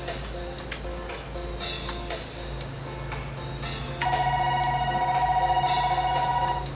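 A bright electronic phone ringtone from a folding 88-key digital piano, in piano-like tones, starts partway through and repeats steadily over a busy room background.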